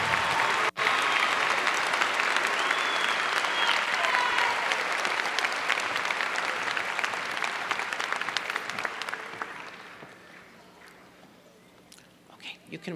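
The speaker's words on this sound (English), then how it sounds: "let's give these young men and women a big round of applause." A large audience at the 2015 Eastwood High School graduation ceremony applauds steadily, a dense wash of clapping that holds for several seconds and then gradually thins out and fades to scattered claps.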